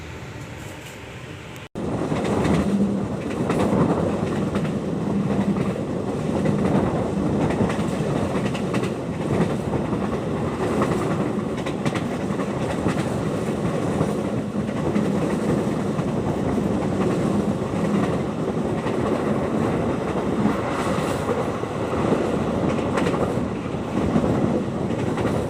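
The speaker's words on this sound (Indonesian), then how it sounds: "perjalanan aku naik kereta api Argo Sindoro telah melintas langsung di stasiun Jatibarang" The Argo Sindoro passenger train runs steadily on its rails on the Semarang to Jakarta route, a continuous loud rumble with rhythmic clickety-clack from the wheels that starts abruptly after a brief quiet moment and then holds constant.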